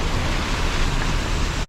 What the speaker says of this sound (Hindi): तो ऐसे छोटे मोटे झरने आपको इस रूट में बहुत देखने को मिलेंगे।